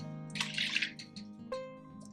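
Half a cup of water pours into a mix of plant milk for a creamy mushroom pasta sauce, a short soft splashing trickle, then faint drips and a final clink.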